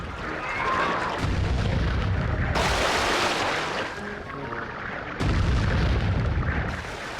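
Cannon fire in the video game Sly 3: Honor Among Thieves: loud, booming blasts roll out in heavy bursts, with two sharp new volleys breaking in over a continuous rumble of battle noise.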